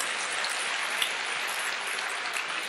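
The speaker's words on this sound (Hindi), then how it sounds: "ताली वाली बजा दो यार" A kavi sammelan crowd applauds steadily and densely for the full stretch, a broad wash of many hands clapping with no voices on top.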